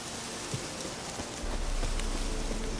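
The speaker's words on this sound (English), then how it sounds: "Looks like rain." Steady rain pours down in a dense, even hiss in the video game The Witcher 3, with a low rumble growing underneath partway through.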